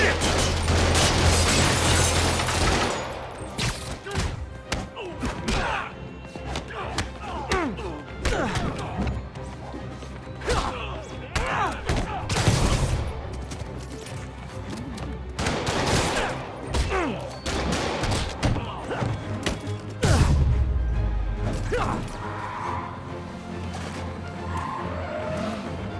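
Gunfire in Marvel's Spider-Man Remastered on PS5, bursts of shots mixed with crashes, whacks and impacts in a busy fight, loud and close, with voices shouting over the action.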